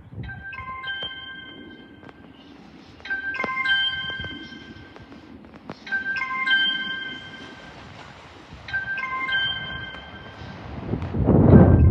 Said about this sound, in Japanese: The local train bound for 熱海 will soon arrive on track number 3.